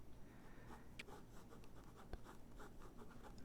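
A pen drawing shapes on paper in a quiet relaxation setting, giving soft scratchy strokes at a close, steady pace with a few sharper ticks, faint and alone without talk.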